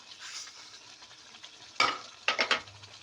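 Turnip and chicken curry with sugar is stirred in a pan, a faint soft sizzle broken by a few brief scraping strokes near the end.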